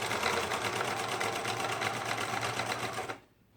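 Sewing machine stitching across a folded pocket edge on a cloak, a close, fast rapid-fire run of needle strokes lasting about three seconds, then stopping abruptly.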